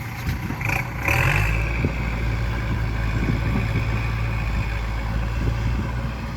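A farm tractor's engine idles and then revs as it is driven and backed up, a close, continuous motor rumble with a brief surge near the start.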